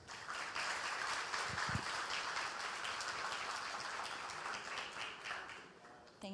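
An audience at a lecture course applauds a professor as he is introduced, a steady patter of clapping from a modest crowd at moderate distance, fairly even throughout.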